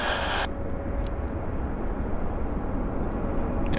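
A jet airliner on a wet runway roars steadily with broad, rushing engine noise, close and loud throughout, with a higher whine cutting off early on and no one talking.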